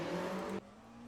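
Race car engine in the Le Mans Ultimate sim at the Le Mans circuit, a loud high whine cutting off abruptly halfway as the car passes, leaving a faint lower drone behind.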